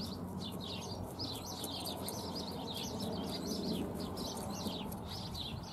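Small birds chirp busily and continuously in spring, their quick, bright calls repeating over a low outdoor rumble.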